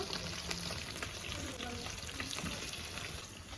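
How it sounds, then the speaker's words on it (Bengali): Fish frying in oil in a home kitchen, giving a steady, dense sizzle and crackle that runs close and loud throughout without any break. "তেল দিয়ে দেবো ভাজাভাজির জন্য"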